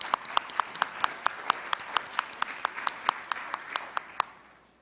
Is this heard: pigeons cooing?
no